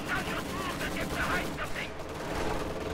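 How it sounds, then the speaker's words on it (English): Strafing run gunfire from a real-time strategy battle game. Rapid bursts and scattered shots sound over a busy battlefield, moderately loud, with a voice talking over them. "Strafing run pins down a ton of infantry here in the road."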